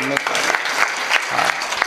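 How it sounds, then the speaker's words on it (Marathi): An audience claps in rhythm during a devotional kirtan performance, with sharp repeated claps over a continuous bed of voices. "टाळी जोरात"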